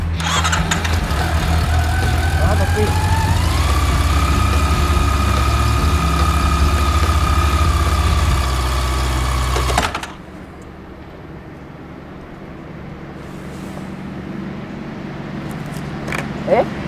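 A motorcycle engine idles loudly with a rising whine, then abruptly cuts out because the kickstand is down, leaving near silence and faint rustling afterward.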